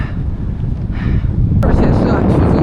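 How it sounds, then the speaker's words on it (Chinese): Strong wind buffets the microphone on a mountain trail above the Ferret valley on the Tour du Mont Blanc, a loud, low roar that swells into a heavier gust partway through. "强风啊，从瑞士刮来。"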